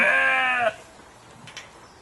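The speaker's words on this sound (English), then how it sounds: "here is our goat and sheep area" A single loud, drawn-out bleat from a sheep or goat close by, then quiet pen noise with a few faint rustles.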